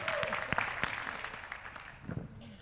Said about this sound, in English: cheer for Josie too.